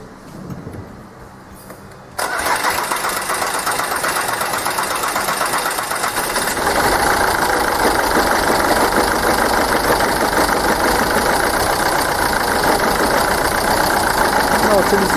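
A diesel engine with a Delphi injection pump, faulty and smoking white in the morning, is quiet at first, then abruptly fires up into a loud, rough, knocking idle that rises to a slightly higher, steadier rumble and keeps running close by.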